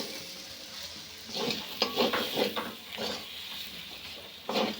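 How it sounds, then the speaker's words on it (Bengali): Spiced onion filling frying in a pan and stirred vigorously, a soft sizzle under repeated scraping strokes of a utensil against the pan, growing busier toward the middle and end. "এবার বেশ ভালো করে নেড়ে চেড়ে পুরটা তৈরি করে নেব।"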